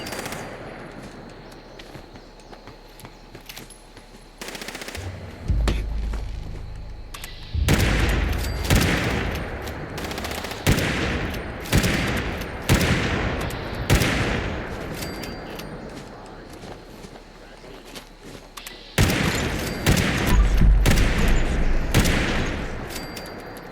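Bursts of rapid automatic gunfire in Fallout 76 as players shoot at rabbit squirrels, with several loud volleys separated by short gaps over a low game ambience.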